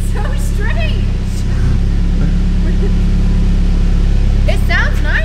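A loud, rough car engine with a big exhaust leak after an engine swap idles and rumbles steadily, with a raspy exhaust note, while people talk faintly over it.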